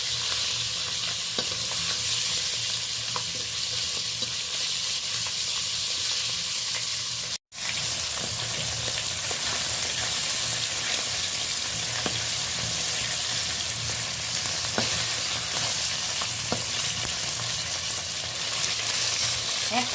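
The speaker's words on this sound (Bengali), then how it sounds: "তেলটা বেশ ভালোভাবে গরম হয়ে গেছে সবগুলো দেবো না অল্প অল্প করে ভেজে নেব" Koi fish frying in hot oil, a dense continuous sizzle and crackle close to the microphone, steady throughout with a brief dropout midway and no talk.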